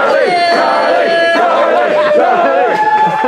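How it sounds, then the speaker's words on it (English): A large audience at an opening ceremony cheers and chants together, a loud, dense wall of many voices rising and falling steadily throughout. "We didn't get a Charlie cheer"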